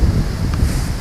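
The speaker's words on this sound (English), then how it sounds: "you probably hear on the microphone of the camera that we've had the wind blowing all the way through this video." Wind buffets a camera microphone outdoors beside a double-wall wood-burning camp stove, a steady low rumble and roar that fills the whole second with no pauses.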